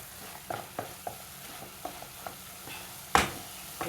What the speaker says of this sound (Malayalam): നമുക്കിതാ ഒന്നും കൂടെ ഇളക്കി പിടിച്ച് ശരിയാക്കാം.